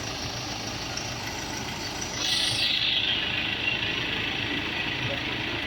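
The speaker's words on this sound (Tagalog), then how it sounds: "parang may gumagargal dito sa makina niya" A recently bought Ford Titanium engine idles with a steady, rough gurgling rumble, heard close and continuous with a brief brighter hiss partway through.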